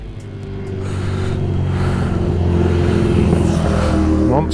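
A motorcycle with a Ducati-type engine revs and accelerates close by, a steady loud drone with harmonics climbing in pitch near the end.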